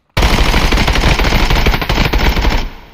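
Loud, close burst of rapid automatic 5.56x45 rifle fire with FMJ rounds in the shooter game Contractors Showdown, a dense continuous rattle of shots lasting over two seconds before cutting off into a brief tail.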